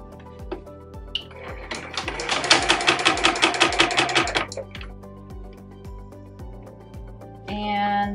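Close, steady rapid stitching from a sewing machine on a mason jar bag, running in one sustained burst for about three seconds before stopping, with lighter mechanical clicks around it.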